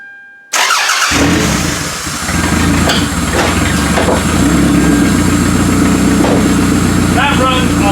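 A Toyota Camry demolition derby car cranks and its engine catches after a brief pause, then settles into a loud, steady idle with a rough low rumble, close by, with a voice speaking over it near the end.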